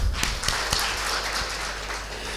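Audience clapping at a Brahma Kumaris spiritual class: steady, dense applause from a crowd with a few sharper individual claps standing out, continuing throughout at moderate loudness.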